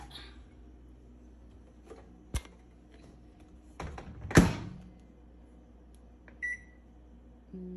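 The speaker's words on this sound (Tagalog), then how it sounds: "i-melt muna natin siya sa microwave" Microwave oven melting butter in a home kitchen: a steady low hum with a few sharp clicks and a loud door thunk near the middle, then a brief beep, all fairly quiet with no voices.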